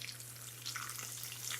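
Chicken fries in oil with avocado leaves for Oaxacan chicken in a home kitchen, a faint, steady bubbling sizzle over a low electrical hum.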